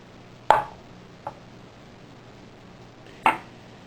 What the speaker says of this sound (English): So then you're going to cut the egg in half.